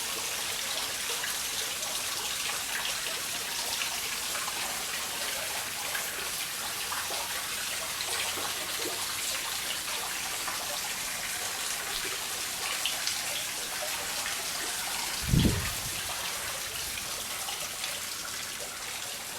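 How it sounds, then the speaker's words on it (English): Water trickles steadily at a private rear patio of a house in Mullins, St Peter, Barbados, a soft continuous wash with one brief dull knock near the end. "if I stop talking for a minute, you can hear the trickling of the water."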